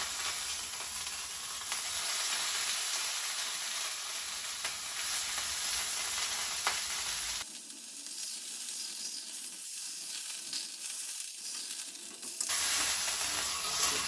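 Peach ribs browning in a hot pan give a steady, loud sizzle and hiss that drops briefly as the meat is shifted, then surges back.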